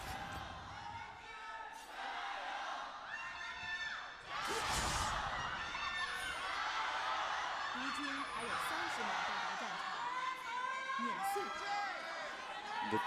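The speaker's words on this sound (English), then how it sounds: "The cheering and chanting gets louder with every passing game" Esports fans in an arena during an LPL third place match between Rogue Warriors and Invictus Gaming cheer and chant in a continuous roar, with sharp bursts and whoops rising over a commentator's voice.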